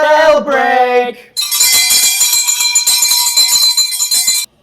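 A bright bell rings out steadily for about three seconds to mark a break, loud and close, with a voice speaking just before it.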